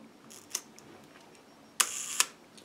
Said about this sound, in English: And the shutter works. We've got the shutter working.